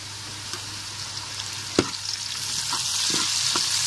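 Steady sizzling of green garlic frying with browned onions in a pan, with a few scrapes and clinks of stirring, one sharper knock near the middle.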